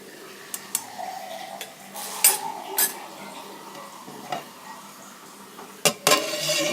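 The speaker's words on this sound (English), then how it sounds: "And now next, I'm going to add the beautiful celery that we just chopped up. And let's just stir things around a little bit." Chopped celery and onions for vegetable soup stirred in a pot with a utensil, scattered metallic scrapes and clinks over a faint steady sizzle, close and quiet, with no talking.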